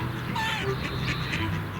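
A flock of geese by the remains of old fortification walls along the Marne gives several honking, quacking calls at moderate distance over a steady low background.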